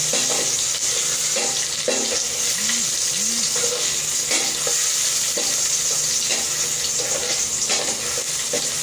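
Ginger sautéing with mussels in a hot pan, a steady loud hiss and crackle of frying throughout with occasional scrapes and faint bubbling, close and continuous, no speech.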